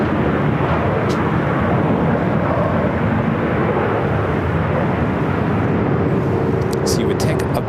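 A Virgin Boeing 737 airliner at LAX roars steadily and loudly from start to finish, a broad, dense jet-engine rumble with no break.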